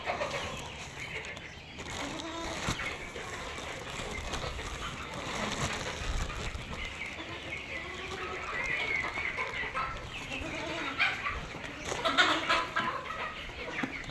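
Backyard chickens cluck and murmur continuously while being fed, a busy overlapping flock close by with scattered wing rustles and no talk.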